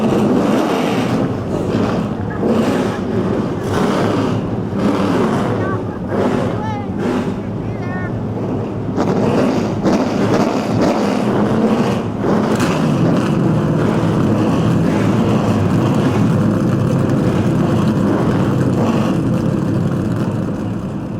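NASCAR Super Late Model race cars at Motordrome Speedway starting their engines for the Steel City 100, a dense, loud roar of many engines with rising revs and wind buffeting, the bursts settling into a continuous rumbling drone.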